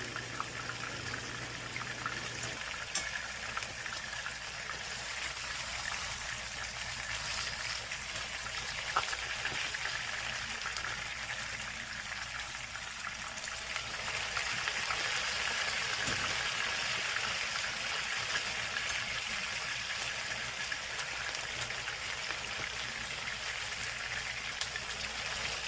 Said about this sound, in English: Now we leave it to fry a little bit.